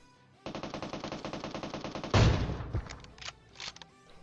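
An AWM sniper rifle fires in the video game PUBG Mobile, one loud heavy boom following a rapid, evenly spaced burst of other gunfire, then scattered fainter shots.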